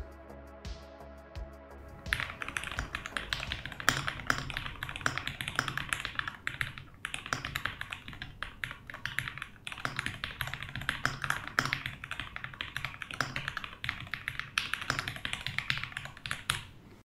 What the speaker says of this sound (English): this is an incredibly smooth typing experience